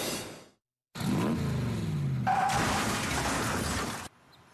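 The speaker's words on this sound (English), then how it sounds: "A car driving in a straight line turns around in a controlled skid without leaving its own lane." A car on a driving course swings into a forward 180-degree handbrake skid, a loud sustained burst of tyre scrub and engine noise lasting about three seconds after a brief gap, then cutting off abruptly.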